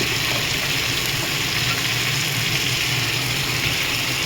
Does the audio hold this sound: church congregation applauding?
no